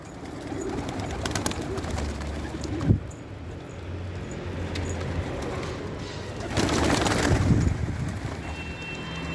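Pet birds, including pigeons or doves, coo and call in an outdoor aviary on a sunny evening, the calls fairly close and repeated over a low ambient hum, with a brief rustle and a louder flurry near the end.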